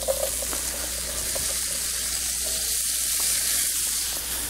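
Beef short ribs, browned in a pan with vegetables added on top for a porter-braised dish, give off a steady, even sizzle that holds close and fairly loud throughout, with no talking.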